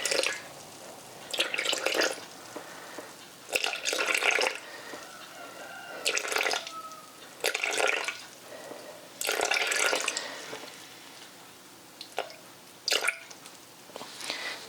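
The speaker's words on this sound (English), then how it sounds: "So I'm going to add 250 water." Water poured into a sourdough starter in a home kitchen comes as intermittent splashing, trickling bursts, close and moderately loud, separated by brief quiet gaps, with no talking.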